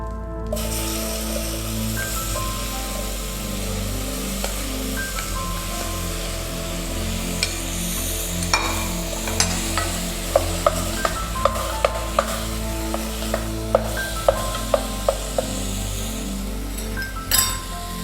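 Apples sizzling in melted butter in a pan, stirred now and then with clinking strikes of the utensil against the pan that grow more frequent toward the end, close and steady with no talk.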